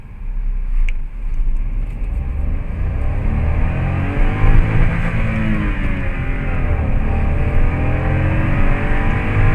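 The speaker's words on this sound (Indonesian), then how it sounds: "kita coba dari 0 sampai 100 kira-kira berapa detik ya" A Daihatsu Rocky with a turbo engine accelerates from 0 to 100 km/h, its engine droning and rising steadily in pitch through the gears, heard loud and continuous from inside the car.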